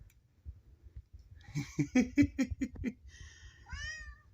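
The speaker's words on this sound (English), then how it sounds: "What are you meowing about down here?" A cat meows several times in a row, close by, with short rising and falling cries, then a longer drawn-out meow at the end.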